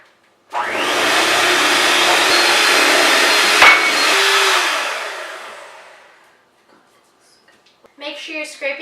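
A kitchen mixer runs on its highest setting, whipping light cream: a loud, steady motor whir that holds for about four seconds, then winds down and fades, followed by brief quiet clatter.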